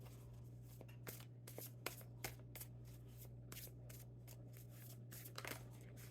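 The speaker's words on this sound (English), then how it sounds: "So we'll just shuffle them up a little." A deck of tarot cards is shuffled in a long run of soft, rapid card slaps and riffles, faint and steady over a low electrical hum, with no voices.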